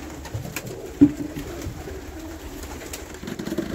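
Pigeons coo low and steadily inside a pigeon loft, close and continuous, with a single sharp knock partway through and no talking.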